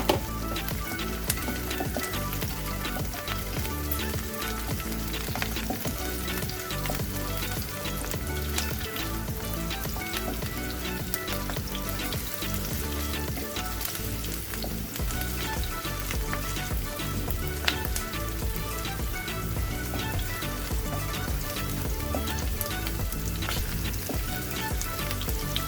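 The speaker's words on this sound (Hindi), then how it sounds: "शिमला मिर्च डालेंगे। इसको भी थोड़ी देर के लिए फ्राई करेंगे।" Chopped bell peppers for chowmein-style Maggi noodles sizzle and fry in a pan, a loud, steady crackling hiss with occasional stirring that runs without a break throughout.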